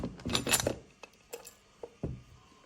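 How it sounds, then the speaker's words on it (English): A motor's electrical connector being plugged back in during a motor swap, giving a few sharp, light clicks and small clinks spaced apart, close by, with no talk. "You will now hear a click, so you can be sure that the connector is plugged in properly."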